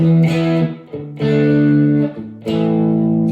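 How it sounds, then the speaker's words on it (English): Electric guitar chords from a Telecaster bridge pickup ring out through a crunchy, mildly distorted Deluxe Reverb amp model on a Spark amp, three sustained strums with brief gaps between them. "this is the Deluxe Reverb that they have, and they have it in the crunchy category"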